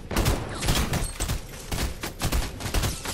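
Video game gunfire in a rapid fusillade, dense overlapping shots with heavy low thumps repeating throughout, loud and close with no talk over it.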